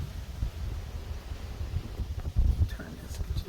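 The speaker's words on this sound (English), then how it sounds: "It's awful windy out here." Strong wind buffets an outdoor microphone in a steady low rumble with gusts, loudest around the middle, with no talking.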